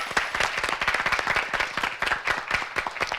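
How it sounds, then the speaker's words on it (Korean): Studio audience at a televised high school debate competition applauding, a lively, dense patter of many hands clapping at moderate volume for the whole stretch. "박수 한번 부탁드릴게요."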